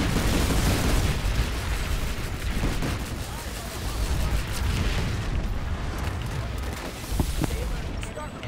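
Mines exploding in the online shooter Planetside 2, heard as a sustained, loud, rumbling barrage of booms and gunfire without a break, with battle noise layered throughout.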